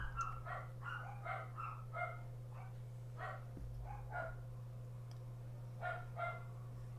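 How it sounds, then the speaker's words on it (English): Several dogs bark in short repeated bursts at a moderate distance, some barks yipping, over a steady low mechanical hum with no talking. "Dogs barking. I don't know why they're barking, but they're barking."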